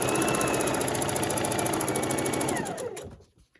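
Sewing machine stitching Christmas table runner fabric runs steadily and loud for about two and a half seconds, its rapid mechanical chatter then slowing and fading out as the machine stops.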